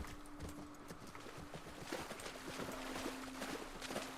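Horse hooves clip-clop in the video game The Last of Us Part II, a steady stream of soft, overlapping hoof knocks from several animals walking over a noisy outdoor ambience with a faint tonal hum.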